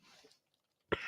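A single sharp, loud cough bursts out close to the mic after a stretch of near silence, preceded by faint murmuring.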